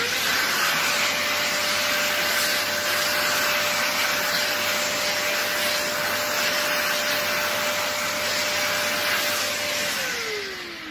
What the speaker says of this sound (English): right now I'm hoovering this door down after hand sanding the beading